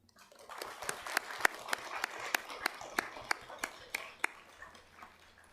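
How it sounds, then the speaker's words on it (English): Scattered hand claps from a small audience in a council chamber, welcoming a family and their friends; the sharp claps come unevenly and thin out over several seconds, with faint room murmur underneath. "If we could give them a round of applause"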